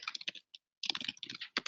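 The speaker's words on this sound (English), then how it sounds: "I could also type" Close, crisp typing on a computer keyboard, with rapid clustered keystrokes, a brief pause, then another fast burst of clicks, all fairly loud and with no talk.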